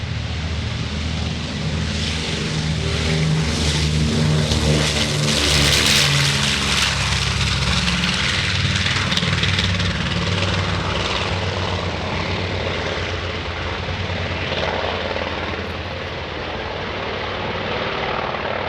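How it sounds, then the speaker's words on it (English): A World War II B-25 Mitchell bomber passing at an airshow, a loud, sustained piston-engine and propeller roar that swells to a peak near the middle and holds steady with no talk over it. "Here comes the B-25."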